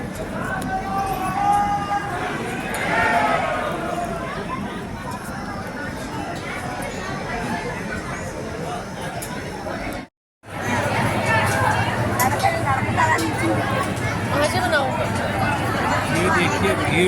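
Huge dense crowd pressing toward the Bhairav temple, a loud continuous babble of many voices close around with shuffling footsteps, briefly cut off by a moment of silence before the chatter resumes.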